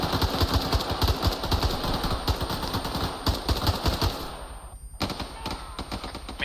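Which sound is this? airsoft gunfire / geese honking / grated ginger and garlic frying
airsoft gunfire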